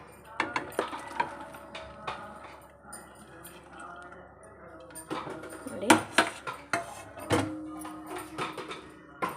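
Cut beans tipped into a pan while cooking bean palya, with clinks and scrapes of a metal spoon and pan at close range, sharper clatter bursts near the end, and a faint background hum throughout.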